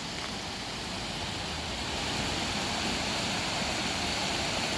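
Trace Creek in Waverly, Tennessee flows after a flash flood, a broad, constant rushing of water that holds steady and close with no other sounds.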